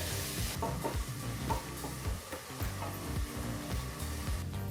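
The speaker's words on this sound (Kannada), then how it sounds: "ಈರುಳ್ಳಿ ಚೆನ್ನಾಗಿ ಫ್ರೈ ಆಗಿ ಗೋಲ್ಡನ್ ಬ್ರೌನ್ ಬರಬೇಕು" Chopped onion fries in a pan until golden brown for a festive kalu gojju, giving a steady close sizzle with repeated scraping stir strokes and a few bright clinks, with no voice.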